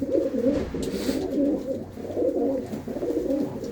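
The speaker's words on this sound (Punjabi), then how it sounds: "ਚੰਗੇ ਨਸਲੀ ਵਧੀਆ ਕਬੂਤਰ ਨੇ" Pigeons coo softly and continuously, their low throaty burbling overlapping in a steady close chorus with no speech.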